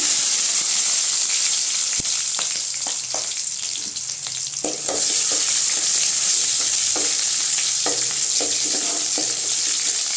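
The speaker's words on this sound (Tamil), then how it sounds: "வெங்காயம் நல்லா வதங்கிட்டுங்க" Onions, mustard seeds and curry leaves sizzling in hot oil as a tempering for mochai and radish kulambu, a steady loud frying hiss with intermittent scraping stirs of a ladle in the pan.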